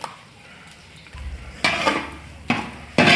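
Masala paste being stirred with coconut in a pot, with a low rumble and then three sharp scraping clinks of a spoon against metal, close by and without talk.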